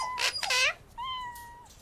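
An injured cat in Sherlock Holmes Vs Jack The Ripper gives two short, close meows and then one longer, drawn-out wail, clear and alone.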